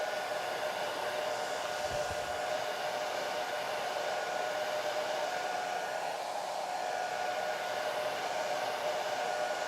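A hair dryer blows steadily on wet watercolor paint, a constant, even whooshing hum that holds at the same level throughout with no other sounds.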